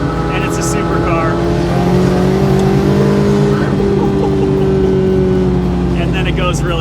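A Cyan Racing Volvo P1800, a lightweight classic restomod with a 420-horsepower engine, accelerating hard, its engine note rising steadily in pitch and loud and close throughout.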